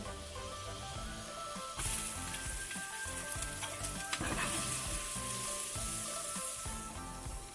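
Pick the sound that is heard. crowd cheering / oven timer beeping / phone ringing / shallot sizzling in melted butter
shallot sizzling in melted butter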